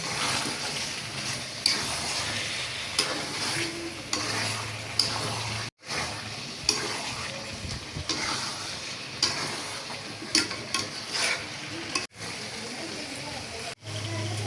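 Chicken curry with onions and fried potatoes is stirred in a pan, giving repeated rhythmic scraping strokes and knocks over a steady frying sizzle, with brief near-silent pauses between bursts.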